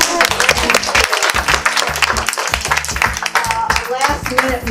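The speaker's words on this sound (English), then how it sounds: "I want to make sure that we give her a round of applause" An audience at a Harvard Medical School event gives a steady round of applause, with dense clapping mixed with music or tonal sounds running underneath throughout.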